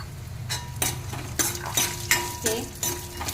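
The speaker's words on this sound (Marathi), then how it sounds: "चला हे वाटण मस्तपैकी भाजून थोडेसे मी त्यामध्ये शेंगदाणे पण टाकणार आहे" Masala paste with curry leaves roasting in a pan, a low sizzle under repeated sharp scrapes and clinks of a spatula against the metal.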